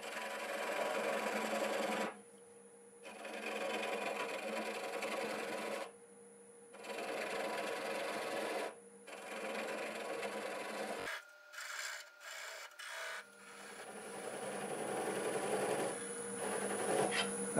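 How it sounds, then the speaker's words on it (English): Wood lathe turning stubborn black oak with a spindle detail gouge, a steady broadband cutting hiss in long continuous passes broken by short pauses, ending in a few choppy bursts. "I'm going to switch to a spindle detail gouge so I can get it in there a little closer."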